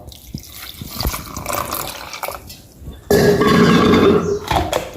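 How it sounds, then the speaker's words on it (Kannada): After a few soft kitchen knocks and clatters, water pours steadily into a mixer jar holding ground spices, a sustained splashing stream through the last two seconds. "ಇದಕ್ಕೆ ಸ್ವಲ್ಪ ನೀರು ಹಾಕುವ."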